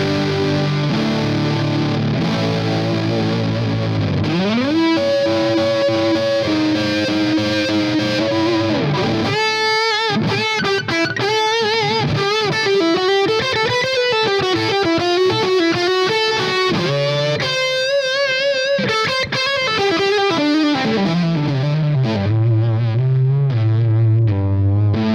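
An electric guitar runs through a Boss Blues Driver BD-2 overdrive pedal at full settings, giving a loud, heavily saturated, sustaining tone with long ringing notes and shifting melodic lines, played alone.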